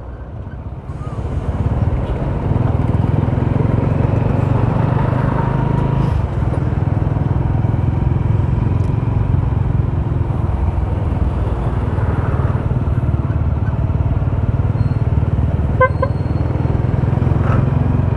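Road traffic at Santo Tomas near Carmen Bridge in Rosales: motorcycles and cars pass in a steady, loud engine drone, with the hum and wind continuing throughout.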